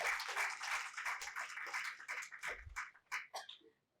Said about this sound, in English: please give a big round of applause to all our children here.